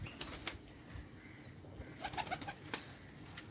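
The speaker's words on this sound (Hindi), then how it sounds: "ये तीन किस्म के कबूतर हैं" Teddy Golden and Dabwalay pigeons in a loft in Lahore coo softly in short bubbling phrases amid light wing flutters and shuffling, faint and close with no talking.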